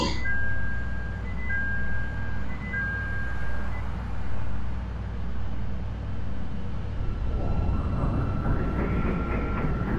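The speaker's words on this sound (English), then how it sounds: "Doors closing." Electronic door-closing chime on a red line train in the Roblox CTA 'L' simulator: a short tone pattern repeats three times over the first few seconds, standing clear above a steady low rumble of train and track.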